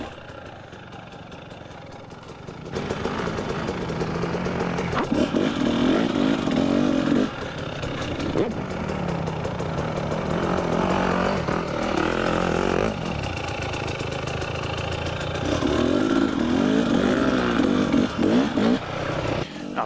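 KTM and Yamaha enduro dirt bikes work over rocky state-park terrain, engines revving and bogging in uneven bursts close by, with throttle blips and sustained loud passages stretching across the whole stretch.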